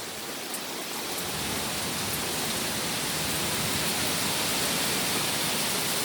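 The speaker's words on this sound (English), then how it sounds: "Look how heavy the rain is." Heavy rain pours during a severe storm in Atlanta, a dense, loud, unbroken hiss that swells slightly and holds steady throughout, with no voices.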